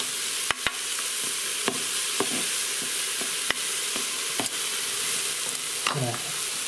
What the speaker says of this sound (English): you hear that great sizzle